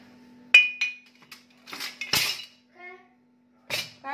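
A metal wok (kadhai) is set down on a kitchen stove with a sharp clank, followed by lighter clinks of cookware and utensils, with a steady low hum in the background and brief voices nearby.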